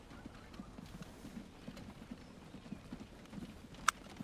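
Steady hooves clip-clopping at a walking pace over a soft ambient bed, with one brief sharp click near the end, from horse-drawn carts delivering coffee beans in the game Transport Fever 2.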